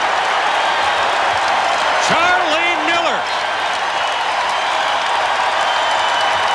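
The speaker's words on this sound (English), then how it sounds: "Everybody in the Assembly Hall standing, applauding that effort" A basketball arena crowd at Assembly Hall, Indiana versus Northwestern, standing and applauding as a steady, loud wash of clapping and cheering, with a commentator's voice briefly over it.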